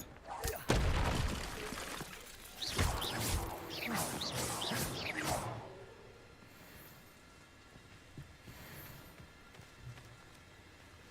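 A fiery Confringo spell blast in the video game Hogwarts Legacy goes off as a cluster of loud, booming explosive bursts over about five seconds, then fades into a quieter rumbling background.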